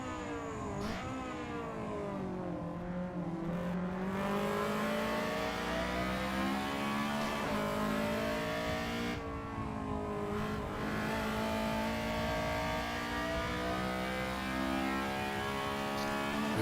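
Honda Civic EG race car engine revving hard on track at Tsukuba, a steady loud howl climbing through the gears with brief dips at shifts, heard from onboard with no talking.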